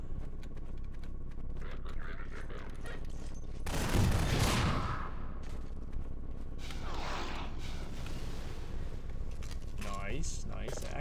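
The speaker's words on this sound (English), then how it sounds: "Okay, so rocket launcher again." A rocket launcher fires in the video game Half-Life: Lost Coast, a single loud, roaring blast near the middle over constant game noise, with a voice talking throughout.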